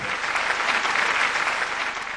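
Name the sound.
audience applause at an award night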